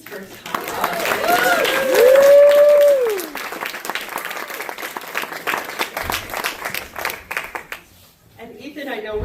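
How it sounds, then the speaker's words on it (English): An audience at a Rabbit Box storytelling event applauds storyteller Tom, with dense clapping that swells and then tapers, a voice speaking over it and a few whoops near the end. "Another round of applause for Tom."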